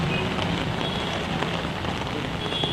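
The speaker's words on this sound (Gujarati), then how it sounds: "મોડી રાતથી જે અમદાવાદ શહેરમાં વરસાદ વરસી રહ્યો છે" Steady rain falls across Ahmedabad city, a dense, even hiss of drops on surfaces that stays constant and fairly loud throughout.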